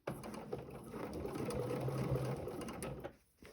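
Sewing machine stitching a quilted placemat into a corner of a turkey design, a short, close burst of fast, even needle chatter that cuts off near the end.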